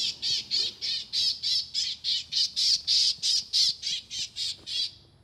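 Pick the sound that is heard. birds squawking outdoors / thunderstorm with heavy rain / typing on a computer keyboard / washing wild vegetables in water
birds squawking outdoors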